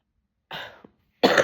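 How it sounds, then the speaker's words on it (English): Two separate coughs from one person, close and loud, with a short pause between them and near-silence before the first. "See, I'm going to cough."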